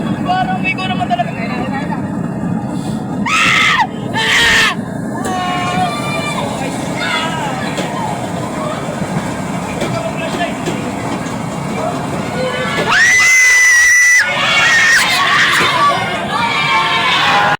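Companions in the back shout and scream over a loud, steady vehicle rumble. A babble of voices rises in bursts, with a louder outburst near the end.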